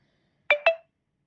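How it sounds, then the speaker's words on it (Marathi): A three-year-old mobile phone, which hangs under load, gives two short tonal beeps in quick succession at an incoming call, close and clear in a quiet room. "फोन येतो एकच मिनिट"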